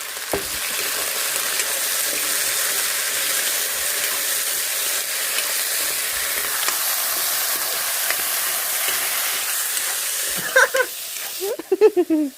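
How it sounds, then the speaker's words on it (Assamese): Onions frying in a pan at home, a continuous close sizzle with crackle throughout, a few clatters of utensils near the end. "আলু সৰুৱা মাছ ফ্ৰাই চাই কৰি লোৱা হ'ল বাকী পিঁয়াজ ভাজি আছোঁ"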